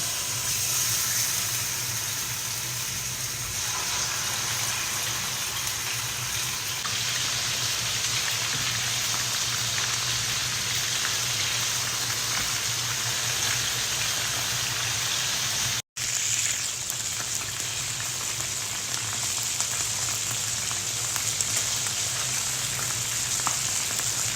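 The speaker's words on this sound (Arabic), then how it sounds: "وبعدين زيت السمسم، وبنحمر السالمون" Salmon slices fry in a mix of vegetable and sesame oil, a steady close crackling sizzle that holds evenly throughout with one momentary dropout.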